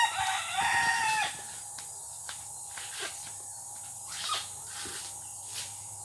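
Rooster crowing once at the start of a busy morning in Quezon, followed by a steady chorus of insects and crickets with faint scattered clucks and clicks, no talking.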